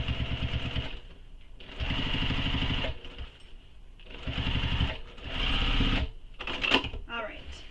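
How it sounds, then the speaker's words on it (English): A sewing machine stitches a tote bag in several loud, steady runs separated by brief pauses, with a voice talking over parts of it. "I'm going to sew on this side now just because I can see it"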